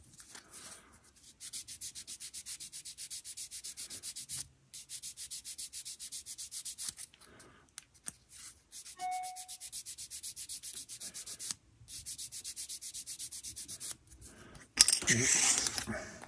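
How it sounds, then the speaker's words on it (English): A power sander works over raised and sunken ejector pin marks on plastic parts of an HK Models 1/48 B-25J kit, making repeated short bursts of gritty rubbing separated by brief pauses. "I'm just going to run them over with the sander to make sure they don't interfere"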